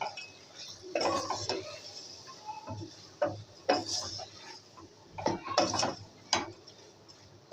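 Chilli flakes, salt and turmeric being stirred together in a pan for a bhindi dish, with a series of irregular metallic scrapes and clinks of a utensil against the pan, fairly close and quiet between strokes.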